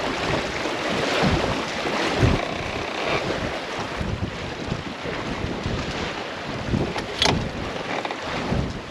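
A sailboat sails solo toward Lymington through open water, with steady wind rushing across the microphone and water washing along the hull, continuous and fairly loud.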